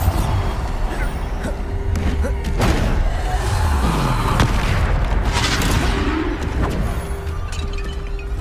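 Bombarda explosion spells in Hogwarts Legacy go off in a busy spell-combat fight, with repeated heavy booms and thuds over a constant dense roar. A voice calls out spells throughout.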